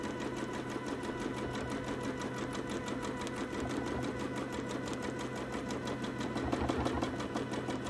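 A sewing machine stitches a toddler's quilt down a long edge with cotton thread: a steady, close mechanical whir with a fast, even needle rhythm that runs unbroken throughout, with no voices.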